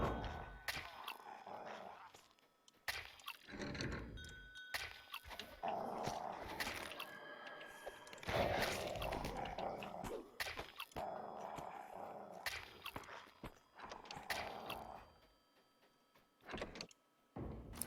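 A dog companion in a video game makes quiet growls, whimpers and occasional barks in intermittent bursts, faint and somewhat distant, alongside soft door-like knocks and a player speaking at times.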